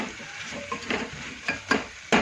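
Potatoes go into hot spiced oil in a pan for Gujarati chickpea pulao, giving a steady close sizzle with stirring scrapes and a few sharper clatters of the spoon against the pot, no voices.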